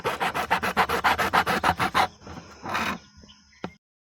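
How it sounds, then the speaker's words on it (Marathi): A long wooden stick for a homemade mango-picking tool is worked with a blade in about a dozen quick, even rasping strokes, then a softer scrape and a brief knock, close and with no talking. "सर्वात अगोदर याला व्यवस्थित असं कट करून घ्या"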